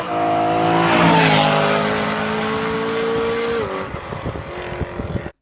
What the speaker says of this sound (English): Now these V8s, I'm going to put in a sound clip.